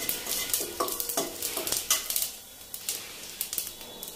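Cumin seeds crackle and sizzle in a couple of spoonfuls of hot oil in a pan, with sharp irregular pops and spits over a frying hiss and a few clinks of a utensil, no talking.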